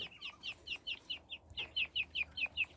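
A Pansy Fee rooster gives a rapid run of short, sharp clucks or chirps in an even rhythm with a brief pause midway, close and fairly quiet.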